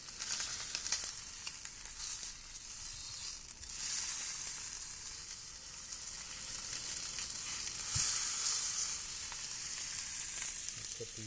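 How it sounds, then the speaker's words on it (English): Beef short ribs searing fat side down in a hot pan, a continuous bright sizzle with a few faint clinks, steady and close throughout. "I'm going to let those sear."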